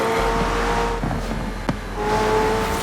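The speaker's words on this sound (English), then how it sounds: "All these exhaust pops that you can hear, they were authentic recordings which came from the McLaren session" A McLaren Senna engine in a video game drones and shifts pitch, with a sharp exhaust pop partway through; steady and loud, no voices.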